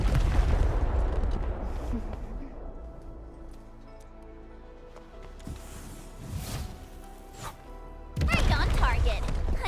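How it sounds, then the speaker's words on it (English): Deep booming blasts in the Arknights: Endfield video game: a heavy explosion at the start decays into a lingering rumble, scattered impacts follow, then another loud burst near the end. "I give that explosion a 10 out of 10"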